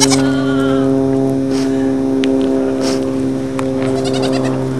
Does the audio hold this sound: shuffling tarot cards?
no